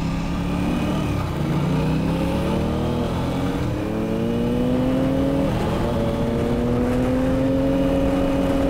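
An Aprilia RS 660 motorcycle accelerates on the road, its engine note climbing steadily through the gears in a loud, continuous ride-along drone with wind rush and no talking.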